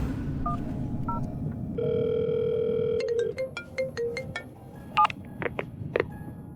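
Telephone dialing: a steady dial tone, then a quick run of touch-tone keypad beeps, followed by a few short ringing tones, heard close over a low background hum with no talking.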